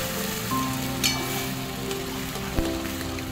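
Ridge gourd frying in a pan with dried red chillies, a steady soft sizzle and crackle running throughout with a couple of brief louder pops, close and alone.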